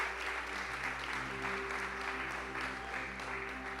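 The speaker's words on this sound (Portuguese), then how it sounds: "Você pode aplaudir a Jesus?" Congregation in a church applauding during a worship service, a steady dense wash of many hands clapping at once, sustained and fairly even, with faint musical tones underneath.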